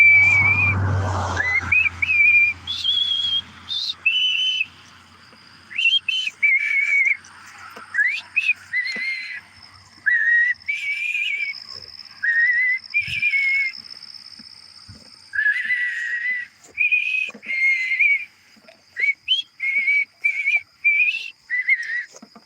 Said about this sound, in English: Now that I got dentures, I can whistle.